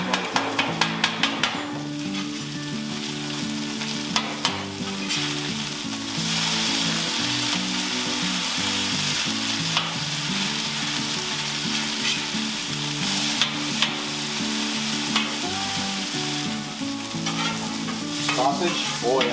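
Bacon and hash browns frying on a hot Blackstone griddle, a loud continuous sizzle and crackle with sharp metal spatula taps and scrapes at the start and scattered through.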